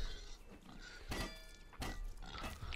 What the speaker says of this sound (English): Hit the pigs.